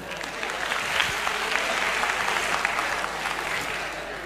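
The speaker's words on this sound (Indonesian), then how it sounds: "Kita berikan tepuk tangan dulu." Audience applause fills a police national dialogue event on developing senior leaders: a dense, steady wash of many hands clapping at even loudness throughout.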